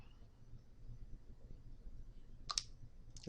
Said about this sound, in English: Go ahead and click that.